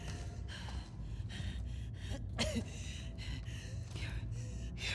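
Labored, ragged breathing from a character in The Last of Us Part 2 comes as sharp gasps and snorting breaths in an uneven rhythm, close and fairly loud over a low background rumble.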